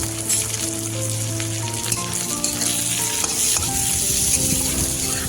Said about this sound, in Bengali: পেঁয়াজের সঙ্গে মশলাগুলো একটু কষিয়ে নেব।